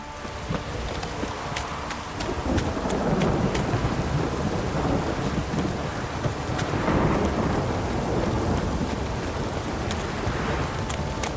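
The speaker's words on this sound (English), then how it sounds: "This downpour's a bastard" Steady heavy rain hisses continuously in The Witcher 3 video game while deep rolling thunder rumbles underneath, building and fading; no voices are heard.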